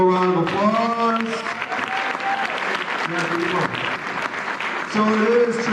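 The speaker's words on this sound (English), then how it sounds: "let's give him one more round of applause." Banquet audience at a Lane Tech boys basketball season banquet applauds in a sustained, fairly loud burst of clapping, with voices talking over it throughout.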